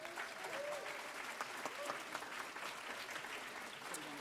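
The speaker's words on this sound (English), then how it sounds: "Give one more round of applause for Darcey and Regina" Faint applause from a concert audience for performers Darcey and Regina, a steady wash of distant clapping, very quiet throughout.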